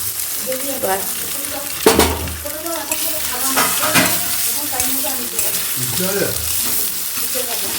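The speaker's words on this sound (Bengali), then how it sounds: "এটা হচ্ছে ডিম আর পেঁয়াজ ভাজা" Egg and onion fry in oil in a wok, a constant close sizzle broken by scraping stirs and a few sharp clinks of the spatula against the pan, with faint voices in the background.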